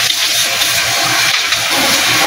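An Isuzu 6WG1 diesel engine starts up after a cylinder head installation to fix overheating, a loud, dense, rough mechanical roar held steadily throughout in a workshop setting.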